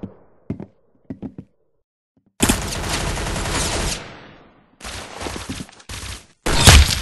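Video game gunfire comes in bursts: a few sharp isolated shots, then a long loud sustained volley, followed by shorter rapid bursts and a final heavy blast.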